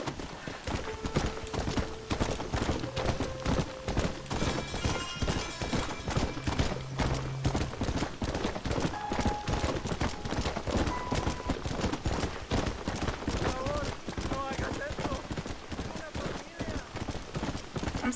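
Rhythmic hoofbeats of a galloping horse in the Western video game Red Dead Redemption, steady and continuous throughout, layered with game music and ambient effects.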